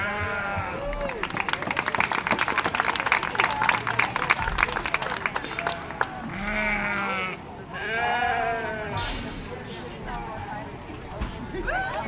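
Sheep at a county fair breeding and showmanship ring bleat in several short, wavering calls over a busy indoor crowd, with an announcer talking and brief applause.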